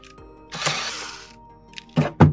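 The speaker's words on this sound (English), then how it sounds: "Now using a T8, we'll take out these two screws." A Torx T8 screwdriver working screws out of an Xbox Series S console, a few short close clicks and a rasping turn, followed by two sharper knocks, with quiet gaps between.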